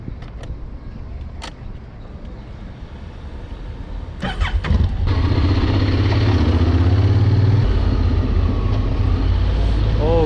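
A delivery motorbike starts up and pulls away, a few clicks and a brief rev giving way to a loud, steady engine drone with wind noise that carries on to the end.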